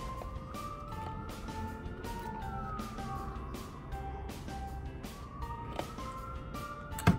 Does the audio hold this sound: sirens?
yes